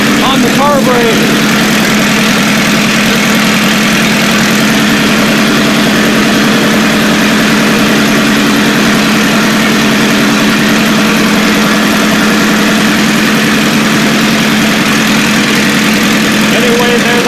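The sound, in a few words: engine idling while carburetor idle valve is adjusted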